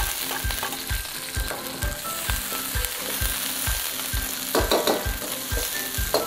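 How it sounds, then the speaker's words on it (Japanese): Green bell peppers stir-frying in a wok for a spicy pork dish, with a steady broad sizzle and a regular rhythm of scraping, tossing strokes, close and loud, with no voices. "結構あのピーマンしんなりするまでね、これ炒めます。"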